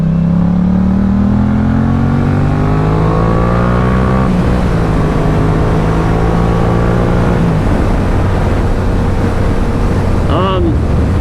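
A Yamaha R7 sport motorcycle accelerates in short pulls, its engine note rising steadily through the gears, with a shift partway through and a brief squeal near the end, loud and close.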